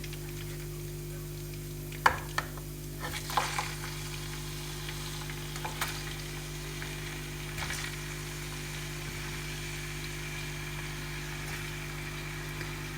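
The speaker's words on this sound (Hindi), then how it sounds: "विंग्स ऐड करके इसमें हमने इसको हल्का सा गोल्डन ब्राउन करना है। लाइट सा इसको फ्राई करेंगे" Chicken wings fry in a pan with garlic paste, giving a soft, steady sizzle with a few brief stirring clicks and scrapes, fairly quiet and without talk.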